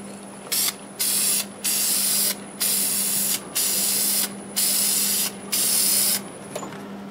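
Deft gloss finish is sprayed onto a turned black walnut vase in a series of about seven short aerosol hisses separated by brief pauses, with a low steady hum underneath.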